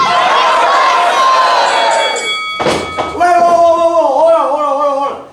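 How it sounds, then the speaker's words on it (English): A live micro wrestling event crowd screams together in a loud, ragged burst after a tonal hum, with shouting voices rising and trailing off. "I need everybody to scream Micro Wrestlers"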